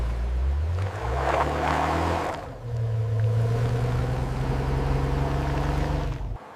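A Porsche 911-based motorhome on its first drive, its engine droning loudly and steadily as it pulls along, rising in a clear revving tone after a brief dip, with no voices.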